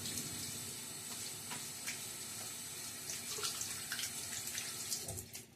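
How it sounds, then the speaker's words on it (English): Tap water runs in a steady, continuous stream into a sink during a wet shave with lather, close and moderately quiet, with small splashes and no talking. "let me do a quick splash of water"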